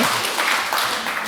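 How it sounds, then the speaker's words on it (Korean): Church congregation claps during a Sunday sermon, a brief dense burst of applause filling the room with no voice over it. "박수 한번 해주시죠"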